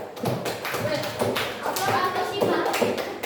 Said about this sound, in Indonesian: beri aplaus untuk temannya dulu